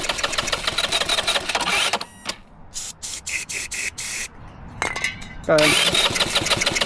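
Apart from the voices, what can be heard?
minibike engine running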